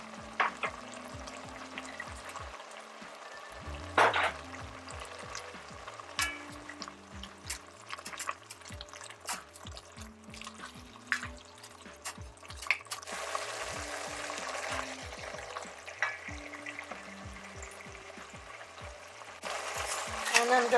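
Garlic and ginger frying in a pan for homemade Jamaican beef patties, a quiet crackling sizzle with intermittent scraping and clinks of stirring, swelling slightly toward the end.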